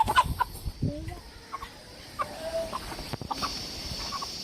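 Chickens on a poultry farm cluck in short, scattered bursts nearby, with a few louder squawks over a low background of farmyard noise.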